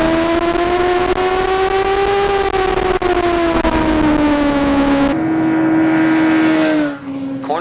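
A Suzuki GSX-R600 sport motorcycle accelerating hard out of a long corner on a race track, its engine note loud, steady and rising in pitch, then dropping at a shift near the end.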